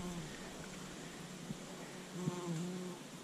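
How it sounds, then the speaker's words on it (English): A bee buzzing around a flower among waist-high bushes in the woods, a close steady drone that rises and wavers in pitch as it moves, with no voices. "Oh, this bee on a flower."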